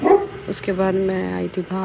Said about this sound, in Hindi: ये जो है भौंक रहा था, क्योंकि बाहर आवाज़ आ रही थी कुत्तों की भौंकने की।